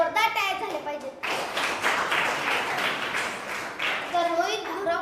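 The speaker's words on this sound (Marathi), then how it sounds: "अजून एकदा जोरदार टाळ्या झाल्या पाहिजेत." Enthusiastic applause from an audience at a student elocution competition, a dense burst of clapping filling the middle seconds, with children's voices talking before and after it.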